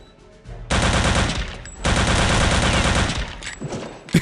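Loud sustained machine-gun fire from the video game Return to Castle Wolfenstein, two long rattling bursts with a brief gap between them, close and unbroken, with no talking.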